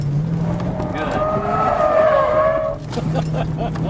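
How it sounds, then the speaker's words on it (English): A car on a counterclockwise skidpad accelerates hard and slides, its engine swelling over a couple of seconds with faint tire noise, then easing off, with a steady low hum throughout. "lift right here, and nail the gas hard"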